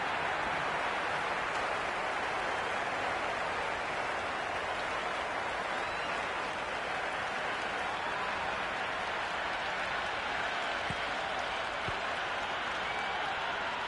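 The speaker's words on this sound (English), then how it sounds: "It's evident and ever so audible that the crowd is at near bursting point at today's play" A cricket stadium crowd in the Cricket 26 video game roars continuously, a dense, loud wash of cheering and applause that holds steady throughout.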